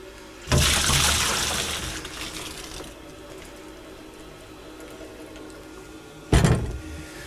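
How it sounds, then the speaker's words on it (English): Cleaning liquid is poured out of an emptied beer keg, a gushing splash lasting a couple of seconds that tapers off, then a short second splash a few seconds later. "pour that out."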